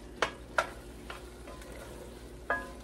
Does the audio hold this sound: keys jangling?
no